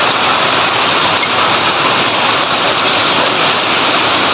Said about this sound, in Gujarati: અમારે શું વરસાદનો અવાજ આવતો છે